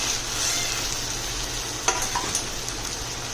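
Boiled potatoes are stirred in a pan of sizzling chutney mixture, a constant hiss of frying with a couple of soft scraping clacks from the spoon.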